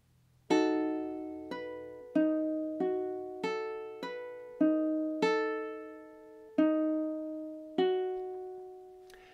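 Ukulele played with four-finger picking through two measures of Hotel California, clear plucked notes ringing out in a steady rhythm of about a dozen attacks, each decaying, close and alone with no voices.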